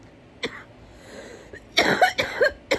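A sick person coughs in a short burst: one cough, a small throat sound, then three or four harsh coughs close together, loud and near with no talking.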